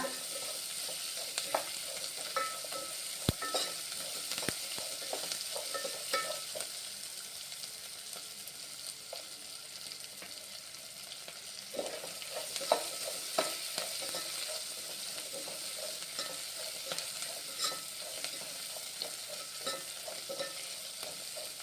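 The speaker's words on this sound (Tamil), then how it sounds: "சின்ன வெங்காயம் நல்லா வதங்கட்டுங்க." Shallots sizzle steadily in a hot pan, with occasional scraping and stirring clicks over the continuous frying hiss.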